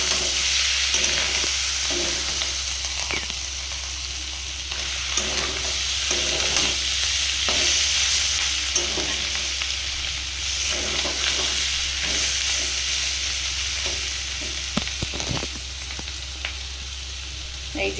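Fish roe and potatoes are stirred in a frying pan, with a steady sizzle of oil and a dozen or so scraping strokes of the spoon, close and fairly loud, and no one talking.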